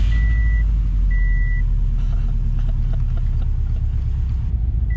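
Steady seatbelt warning beeps sound in a short repeating pattern over a low idling engine rumble inside a 320-horsepower Subaru WRX.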